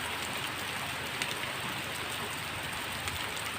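Rain falls steadily on surfaces in a rural field setting, an even, dense hiss of drops at moderate volume with no pauses and only faint scattered louder patters.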